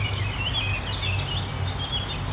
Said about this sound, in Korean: 새소리 들어봐.